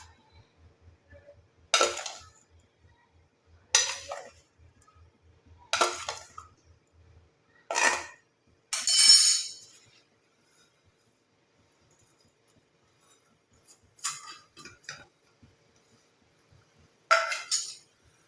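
Sharp separate clinks and taps of a utensil against a container while mixing an ingredient into coconut oil, about seven spaced strikes, close and crisp, with a faint low hum early and silence between them.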